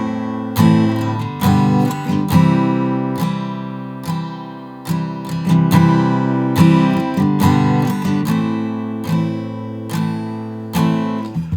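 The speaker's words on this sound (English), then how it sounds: "the intro of the song sounds like this." The intro of a song strummed on an acoustic guitar in standard tuning, a steady rhythmic chord pattern with recurring accented strums, close and solo with no talk.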